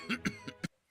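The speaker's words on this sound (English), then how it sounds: "Did the camera just cough?" Four short, soft bursts from a camera character in a Gacha-style animated series, evenly spaced like small coughs or chuckles, then sudden quiet.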